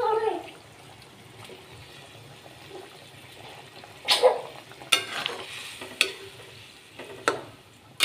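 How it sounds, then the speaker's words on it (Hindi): A spoon stirs eggs into cooked masala for a dhaba-style egg curry. Sharp clacks against the pot come every second or so over a faint, low simmering sizzle. "अभी डालने जा रहा हूँ अंडे, मसाला पक गया है"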